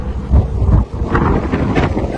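Strong wind buffets the microphone aboard a racing sailboat during the Route du Rhum, gusty low roaring with surging waves and hull noise, loud and continuous with no speech.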